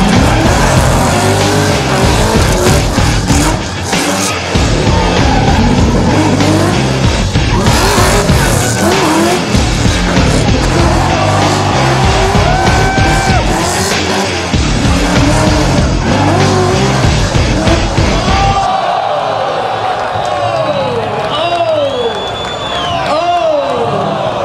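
Drift cars at the Red Bull Drift Shifters event in Auckland City, with engines roaring hard and tires squealing loudly in long screeching slides, a crowd and voices underneath, and the engine noise easing near the end.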